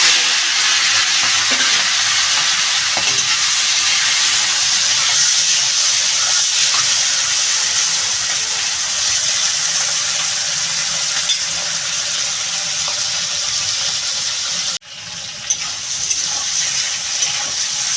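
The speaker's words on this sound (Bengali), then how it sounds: "চিংড়ি মাছটা বেশ লাল করে ভেজে নেবো" Prawns frying in hot oil make a loud, continuous sizzle and hiss with stirring, holding steady for a long stretch before a brief dip and then a return to the sizzle.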